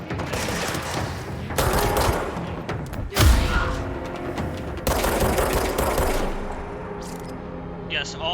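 Gunfire in the video game Control, loud bursts of rapid shots and heavy booming impacts broken by short pauses, with a voice talking over parts of it.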